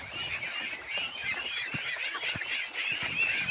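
Pet ducks feeding on snails make a busy, continuous chatter of quacks and honks, up close, with occasional soft knocks beneath the flock's noise.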